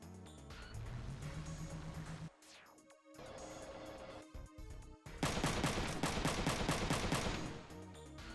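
Video game missiles and automatic gunfire in a chaotic firefight, with dense rapid bursts, a falling whistle, brief gaps of near silence, then a loud sustained barrage of shots and blasts.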